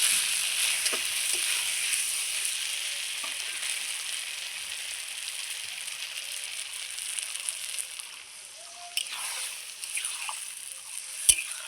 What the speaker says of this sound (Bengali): চিংড়িটা দিয়ে জাস্ট একটু নাড়াচাড়া করে নিয়ে এবার গ্রেভির জন্য জল দিয়ে দেবো আমি